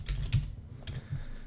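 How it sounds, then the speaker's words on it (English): Arrow keys on a computer keyboard are tapped in a quick burst of light, close clicking keystrokes with no talking. "I was just using the arrow keys there"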